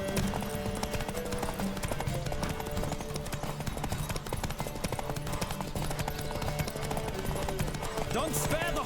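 A horse gallops at speed in The Witcher 3: Wild Hunt, its hoofbeats drumming steadily throughout under a continuous music bed, with brief whinnies and a voice urging it on.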